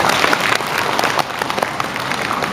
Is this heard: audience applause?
yes